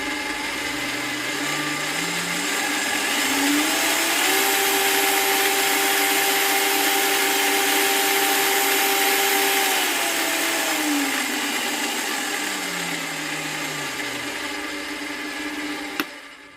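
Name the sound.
Parkside Scheppach DP60 bench drill running in low gear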